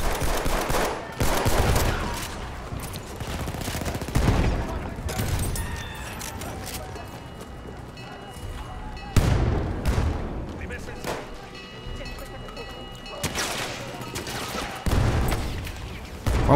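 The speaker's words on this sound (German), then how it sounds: "Und wo kommen denn die Schüsse?" Bursts of rapid gunfire and booming shots in a Battlefield 1 multiplayer Rush match, loud and repeated in several waves, with voices talking in between.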